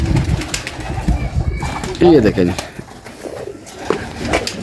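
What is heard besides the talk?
pigeons cooing in a loft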